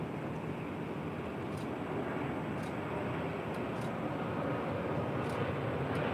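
An airliner taking off from runway 24 Left at LAX, a continuous broadband engine roar that holds steady and strong throughout, with faint brief higher hisses over it.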